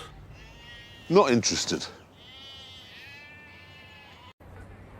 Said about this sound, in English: And as for the sheep...